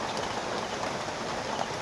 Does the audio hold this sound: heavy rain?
yes